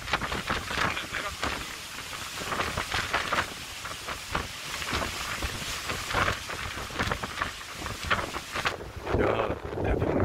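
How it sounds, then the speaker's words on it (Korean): Typhoon Lingling's wind roars steadily with rain lashing down, a loud, dense, continuous storm noise punctuated by gusty surges. "야, 태풍 링링을 과소평가했었네요."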